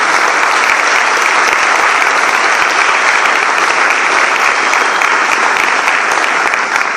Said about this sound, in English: give Mr. Tennant another round of applause.